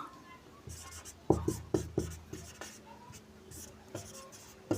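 A pen or chalk writes out a definition during a math class on fractions, giving sharp, irregular taps and scratches at close range, with a faint voice in the background.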